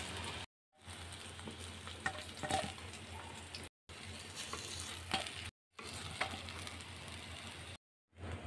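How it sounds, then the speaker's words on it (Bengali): Pieces of fish fry in hot oil for a wedding-style doi katla curry, giving a steady, close crackling sizzle. Several short dead-silent breaks cut into it. "এখন যে তেল আছে এই তেলেই আমি বাকি মাছগুলো দিয়ে ভেজে নেব এপিট ওপিট করে।"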